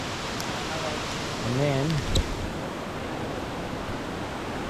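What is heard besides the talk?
waterfall cascade on Branch Creek, Bellthorpe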